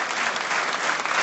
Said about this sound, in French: avec des applaudissements pour elle,